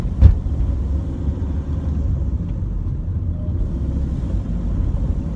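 A car being driven in France, its engine giving a steady low rumble from the start to the end, with a short thump early on.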